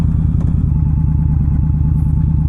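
An Indian Scout Bobber Sixty motorcycle engine pulls steadily while riding, a loud, close, continuous low rumble with an even throb and no breaks.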